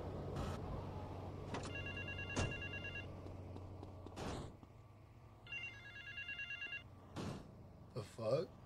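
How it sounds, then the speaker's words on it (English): A phone rings in GTA Vice City Definitive Edition: two bursts of electronic trilling rings separated by a pause, mixed with sharp in-game clicks and bangs, fairly quiet overall. "Answer the phone, bro."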